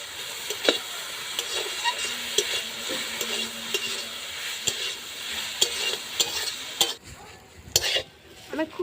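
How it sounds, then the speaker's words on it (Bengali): Spices with salt and turmeric fry in a pan for a khasta kachori potato filling, with a steady sizzle under repeated scraping strokes of a spoon. The stirring stops briefly near the end and then resumes with a few sharp scrapes. "আমি খুব ভালো করে ভেজে নিলাম।"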